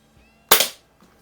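A single sharp air pistol shot from an Umarex Browning Buckmark, a loud close crack that decays quickly in otherwise quiet surroundings.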